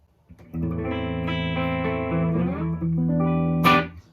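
Electric guitar chords ring out through an amp with lush surf-style spring reverb, sustained and full, ending with a bright twangy strum.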